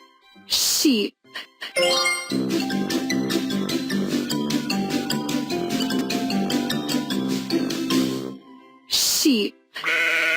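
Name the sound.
sheep bleating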